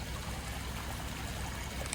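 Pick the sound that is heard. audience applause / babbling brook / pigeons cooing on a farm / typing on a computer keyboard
babbling brook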